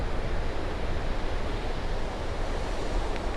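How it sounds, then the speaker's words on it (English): Ocean waves run up against coastal cliffs, a steady broad roar of surf with wind buffeting the microphone and no voices. "some of the ocean waves run up against the cliffs"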